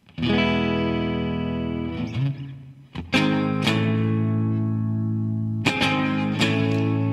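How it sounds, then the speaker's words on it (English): Sustained electric guitar chords run through delay and hall reverb effects ring out with long echoing repeats and a spacious, hall-like reverb tail, struck again a few times. "So let's turn on the delay along with it. We'll actually set this to a hall reverb"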